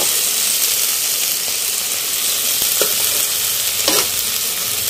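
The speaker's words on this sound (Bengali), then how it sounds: "পেঁয়াজ দিয়ে ডিম ভাজা।" Egg with onion and spices fries in a hot pan, giving a loud, steady sizzling hiss throughout, broken by a few brief scraping stirs of a spatula near the middle and toward the end.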